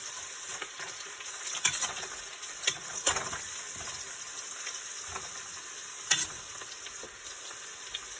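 Garlic sizzles in a hot pan while pork neck bone batchoy is cooked, a steady close crackle with occasional sharper pops and stirring scrapes, no talking over it.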